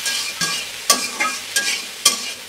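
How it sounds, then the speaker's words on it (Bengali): Soybean chunks frying in a pan with salt and turmeric, a steady close sizzle broken by about five sharp scraping strokes of a spatula at a regular rhythm. "আমি সয়াবিনগুলো একটু ভেজে নেব"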